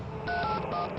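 A quick run of telephone keypad tones, several short beeps pressed in succession, clear and close.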